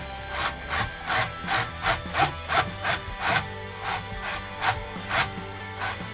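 A 16 mm step drill bores slowly through a wooden guitar body with light pressure, giving a steady series of about a dozen rhythmic rasping, grinding pulses, close and loud, with no voices.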